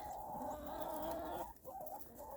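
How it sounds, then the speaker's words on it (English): Chickens cluck steadily in a close, busy chorus, with a brief dip in the noise before the clucking picks up again. "They're just nice, happy chickens"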